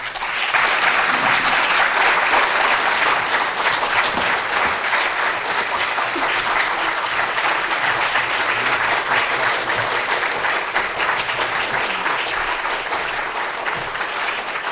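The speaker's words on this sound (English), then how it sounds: "Let's have another round of applause for our leader, our President Salva Kiir" Sustained audience applause honoring South Sudan President Salva Kiir, a dense, steady wash of clapping from a large crowd that stays loud throughout and eases slightly near the end.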